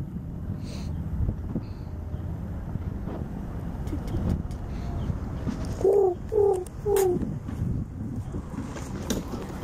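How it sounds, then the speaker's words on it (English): Pigeons coo in a short series of low, throaty calls over steady outdoor noise and wind, fairly close. "Pigeons will chase you."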